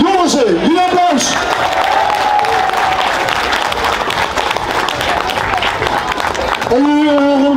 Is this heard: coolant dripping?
no